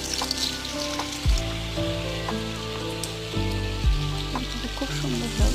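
Pitha batter frying in hot oil, a loud continuous sizzle and bubbling heard up close, with low tonal hums and gliding swoops layered underneath.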